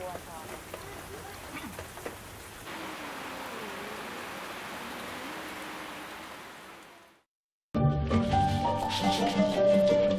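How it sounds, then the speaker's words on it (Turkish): Steady hiss of rain falls for several seconds in Bolivia with a voice talking faintly underneath, then cuts to silence and louder unrelated sound. "bugün hava yağmurlu"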